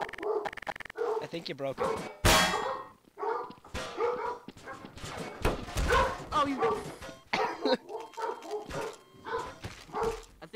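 Several dogs bark, yip and whimper in excited bursts close by, while people talk and laugh over and between them.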